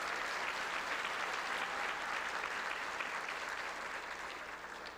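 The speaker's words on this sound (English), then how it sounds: "Can we give them another round of applause, please?" A large audience at a high school graduation ceremony claps steadily and loudly throughout, a dense wash of applause that eases off only slightly at the end.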